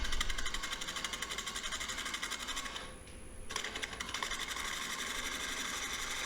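A gouge cuts a red mallee burl bowl on a wood lathe, giving a rough, rapid chattering scrape with a rhythmic flutter. The scrape stays close and fairly steady, with a brief dip near the middle.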